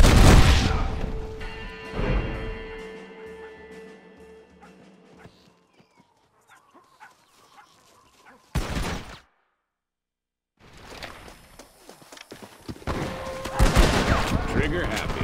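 Shotgun blasts from the video game Red Dead Redemption: several loud, booming shots at the start and again in the second half, separated by a near-silent gap, with a brief burst in between.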